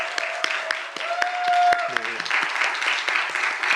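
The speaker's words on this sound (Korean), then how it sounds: "우리 환영과 감사의 박수 한번 드릴까요?" A church congregation claps together to welcome and thank about ten elderly members attending Sunday worship, a broad steady wash of applause running throughout, with a brief voice and a sustained tone partway through.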